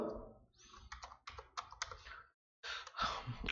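Bursts of typing on a computer keyboard while text is entered into a Visual Basic program, quick clustered keystrokes with a short pause, close and moderately loud with no talking.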